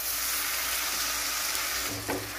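Fresh coriander and mint leaves sauté in a pan for a rava biryani, giving a steady, close sizzle with a soft stirring scrape near the end and no voices.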